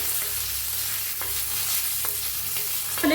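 Cumin seeds frying in oil in a pan, a steady close sizzle with a few scraping stirs of a spoon, fairly loud and continuous, with no talk.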